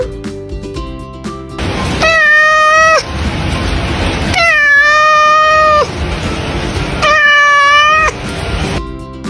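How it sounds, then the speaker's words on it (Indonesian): Three loud, drawn-out cat meows, each lasting about a second, spaced evenly with short pauses between them. "Gimana ya suara kucing?"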